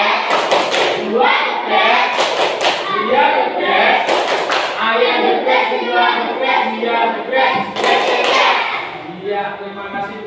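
A school class claps in a brisk rhythmic pattern, loud and close, with bursts of quick claps. Voices chant along over the clapping.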